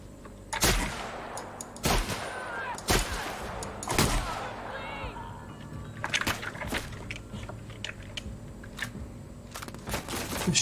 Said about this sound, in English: This shotgun doesn't do a lot of damage.